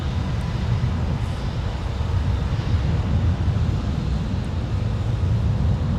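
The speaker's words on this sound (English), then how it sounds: "We got another taxi in motion, Delta 2187 to Miami, Florida with the A321." A Delta Airbus A321 taxiing at MSP airport in winter, a steady low engine rumble and roar heard from a distance, continuous and unbroken.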